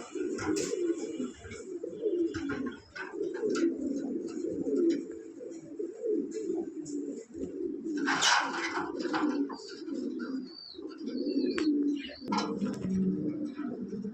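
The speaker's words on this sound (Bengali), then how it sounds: "এখন দেখতেছেন এক pair grey বাল্লাস Lahiri running pair এটা নতুন রানিং পেয়ার অনেক বড় সাইজের কবুতর" A large pair of grey Lahori pigeons cooing up close, deep repeated coos rolling on continuously with occasional faint chirps from other birds.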